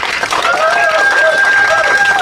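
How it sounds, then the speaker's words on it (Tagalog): A church congregation clapping with excitement during a spiritual revival service, a dense, loud wash of hands and crowd noise throughout, with a sustained tone from music or sound equipment running underneath. "Lahat na excited, pumalakpak!"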